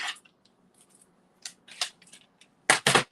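Crisp snipping of scissors, a few scattered cuts followed by two louder, sharper snips close by near the end, with quiet pauses between.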